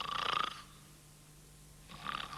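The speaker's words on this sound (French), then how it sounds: "Naturellement, il ronflait." Two loud snores, one at the start and another near the end, separated by a quiet breathing pause.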